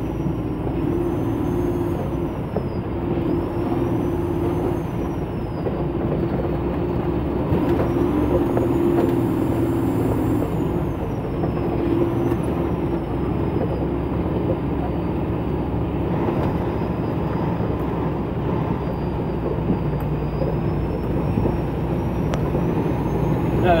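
A loaded log truck grinds along a rough bush road in second gear, its diesel engine droning steadily and loudly throughout, with rattling and clunking from the load and chassis over bumps.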